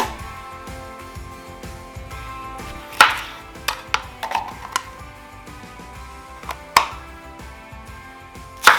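A knife cuts vegetables on a board, giving a few scattered sharp chops over steady background music.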